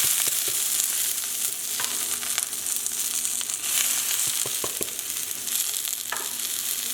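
Bok choy hitting a hot oiled pan with green onion whites, garlic and ginger, a loud continuous sizzle and crackle with occasional sharp clinks and scrapes of a utensil stirring, no talking.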